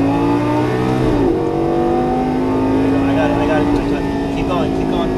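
A Lamborghini Gallardo LP550-2 on track pulls hard after an upshift, its engine note dipping with the gear change and then climbing steadily in pitch, loud and close from inside the cabin, with a voice speaking over it.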